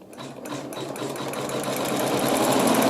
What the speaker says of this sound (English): So I'm stitching step 1 of week 1 section 3 with my wash away thread in the needle